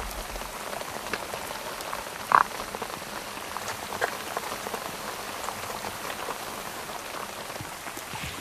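Steady rain falls outdoors in the Swedish countryside, a dense, even patter that continues unbroken throughout, with one brief sharper tap partway through.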